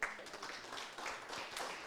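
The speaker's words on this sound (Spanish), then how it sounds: "Damos un aplauso al Señor" Church congregation claps during a service, a faint spread of hand clapping at low volume with scattered louder claps.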